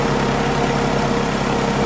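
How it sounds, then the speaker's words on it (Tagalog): A Mitsubishi Adventure engine idles steadily with the air conditioning running, giving a constant low hum and broadband mechanical noise with no change in pace. "After 5 minutes na naka-start itong makina"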